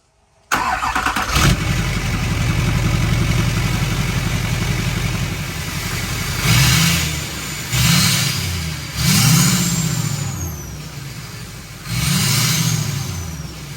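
An engine with a straight-pipe exhaust and 3-inch downpipe cranks and fires, settling into a loud, raspy idle, then several sharp throttle blips rise and fall with an aggressive, unmuffled exhaust bark.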